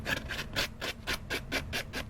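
The edges of paper card stock are roughed up and scraped for handmade cards in a series of about nine close, rhythmic rasping strokes, with no talking.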